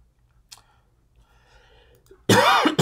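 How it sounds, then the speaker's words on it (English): A single harsh cough bursts out loudly near the end after a quiet stretch with faint clicks and murmurs. "Don't mind the cough."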